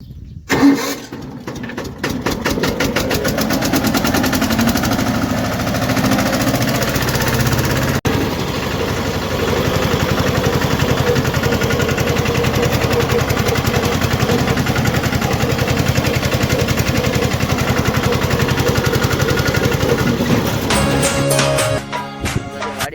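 A tractor's diesel engine runs steadily and loudly up close, a rough, chugging drone that continues throughout, with the tractor out in rain.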